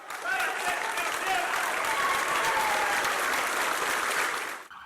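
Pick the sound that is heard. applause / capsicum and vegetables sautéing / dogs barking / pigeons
applause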